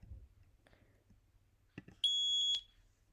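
Piezo alarm sounder on a Simplex fire alarm panel gives one loud, steady, high-pitched electronic tone lasting about half a second, cutting in sharply after faint low background rumble and a couple of soft knocks.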